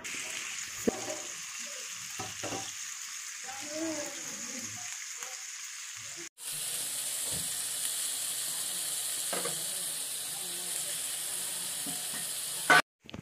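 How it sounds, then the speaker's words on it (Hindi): Chicken shashlik cooking for an Eid dinner, with a continuous hiss of sizzling that drops out briefly, then returns louder and steadier before cutting off near the end. "डिनर रेडी हो रहा है और चिकन चाशलिक पक रहे हैं"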